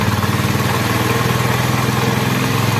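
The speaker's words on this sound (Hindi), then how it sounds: "अब करना है बाइक को स्टार्ट।" A motorcycle engine idles steadily up close, a continuous low throbbing putter with even rhythm and no speech.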